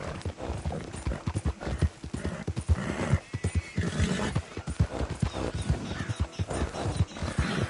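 Horse hooves clip-clop in a quick, steady trotting rhythm in Red Dead Redemption 2, close and clear, with a brief whinny partway through and a faint voice now and then.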